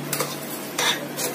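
Sugar and grated coconut being stirred in a pan until the sugar melts, three close scraping strokes of a spoon over a soft, steady background sizzle.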